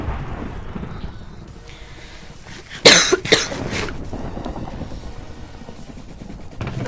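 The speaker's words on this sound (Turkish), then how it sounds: "Yoksa ben öksürdüm muazzam hocam." A single loud cough bursts out midway, a couple of sharp hacks close to the mic, with quiet background before and after.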